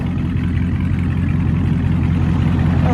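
Dodge Charger 392 Daytona Edition with a 6.4L HEMI V8 and dual straight-pipe exhaust with 5-inch tips, idling with a deep, steady, loud rumble heard up close and alone.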